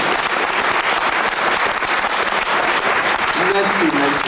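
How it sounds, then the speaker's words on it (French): Loud, dense applause from a crowd at a gospel and Negro spiritual festival in Chartres fills the whole stretch, with a voice beginning to speak near the end. "S'il vous plaît, applaudissez très fort."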